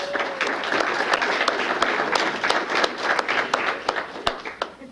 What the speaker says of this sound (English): And then we'll have a round of applause for you.